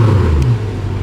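A Mercedes-AMG engine at a street car meet in Atlanta gives a loud, close, deep rumbling rev that eases off after about half a second into a steady idle.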